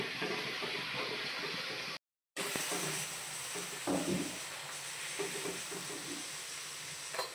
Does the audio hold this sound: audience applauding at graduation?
no